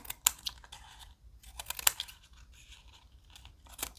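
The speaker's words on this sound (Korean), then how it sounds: "그러면 이렇게 조금 더 잘라야 되겠네요" Scissors snip paper for an origami sunflower in a string of crisp, close cuts and faint rustles, a few sharp snips standing out in an otherwise quiet room.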